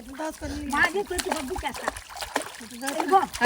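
A child learning to swim kicks and splashes water in short, uneven splashes close by, while an adult talks over the splashing throughout.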